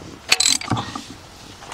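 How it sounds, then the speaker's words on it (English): A ratchet clicks and clunks while holding the crankshaft bolt of a 2007-2017 Jeep Patriot during transmission removal. A brief close metallic burst is followed by a few softer mechanical knocks. "put the ratchet in there and hold the crankshaft bolt"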